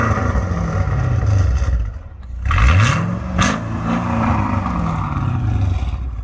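Loud, deep Mercedes CL500 (C215) engine rumbling close up at the exhaust pipes, with a sharp rev that rises and falls midway before settling back to a steady throaty idle.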